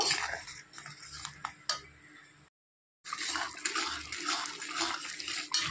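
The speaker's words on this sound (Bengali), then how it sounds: "তো জারটা ধুয়ে আমি জল দিয়েছি, এটা এখন একটু নেড়ে চেড়ে নেব।" Water sloshed and swirled inside a freshly rinsed jar, a wet splashing churn that runs steadily, breaks off briefly into silence, then resumes just as busy and close.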